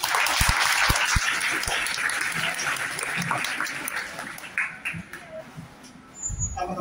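Audience applause welcomes Dr Mohammed Aslam Farooqui, a college principal, to the chair at an anti-dowry lecture at GDC Zaheerabad; sustained clapping fades in the final seconds, with some talk near the end.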